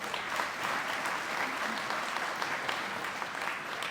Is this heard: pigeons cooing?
no